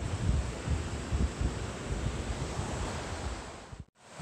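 River flowing near a trail campsite, a broad steady rush of water mixed with wind buffeting the microphone, cutting out briefly near the end.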